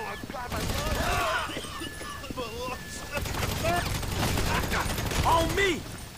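Gunfire in GTA 5 crackles in repeated bursts during a shootout mission, loud and close, mixed with shouting voices from the game and players.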